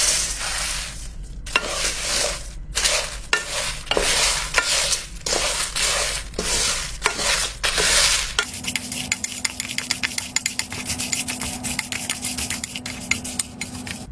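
Whole spices being stirred with a utensil in a kadai-like pot, giving close, repeated scraping and rattling strokes with a faint sizzle, then a steadier busy frying texture with a low hum in the second half.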